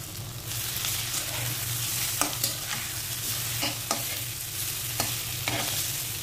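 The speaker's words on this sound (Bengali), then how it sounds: "ডিমটাকে ভাজতে নিয়ে যাব।" Rohu fish roe fries in mustard oil with a steady, close sizzle, broken by several sharp scrapes and clicks as it is stirred in the pan.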